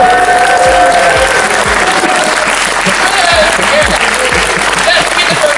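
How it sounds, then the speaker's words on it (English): Dense audience applause fills a film festival screening hall, loud and sustained throughout with many overlapping claps and a few voices mixed into the crowd noise. "Let's give them a round of applause."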